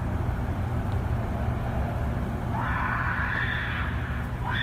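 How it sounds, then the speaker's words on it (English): A distant, high, strained scream rises twice over a steady low rumble of road traffic, faint and muffled as if recorded from afar at night. "he linked to a recording of what sounded like a person screaming at the top of their lungs"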